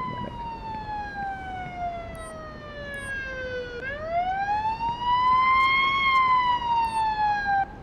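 A wailing ambulance siren in the video game Police Simulator: Patrol Officers, with strong harmonics, sweeps steadily downward, then rises and holds high, loud and continuous over a low rumble, with no voices.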